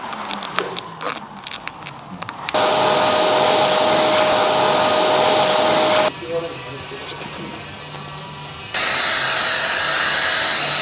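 Heat gun blowing during vinyl wrapping of a Bentley Continental GT, a loud steady whooshing roar that cuts in and out in long bursts, with people talking nearby.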